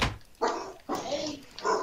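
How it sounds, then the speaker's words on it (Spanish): A dog barks three times with pauses between, fairly loud and close, during a Minecraft game. "¡Qué lindo perro, güey!"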